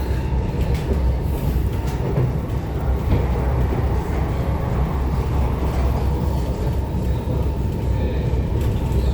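An SMRT R151 metro train on Singapore's North South Line rumbles steadily from inside the car, with a continuous low roar, faint wheel clatter and a few higher squeals throughout.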